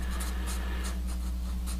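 A fat pen writes on paper in short, soft scratching strokes, quiet and close, over a steady low hum, with no talking.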